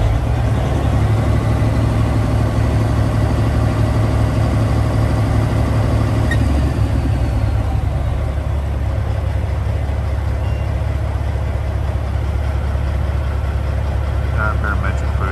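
A 2001 Peterbilt 379 truck engine idling with a steady, deep low rumble that stays constant throughout, close and loud, with someone talking briefly over it.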